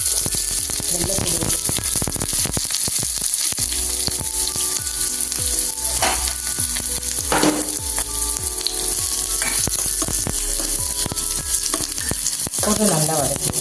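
Onions sauté and sizzle in oil in a pan for egg gravy, a steady close frying crackle with stirring scrapes and occasional spoon clatter throughout.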